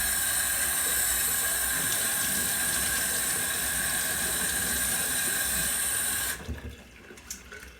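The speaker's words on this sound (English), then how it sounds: "just rinse it off." Running water from a hose or tap rinses dried paste off a deer skull during a European mount, a steady hissing splash that lasts about six seconds before cutting off, leaving faint dripping and handling noises.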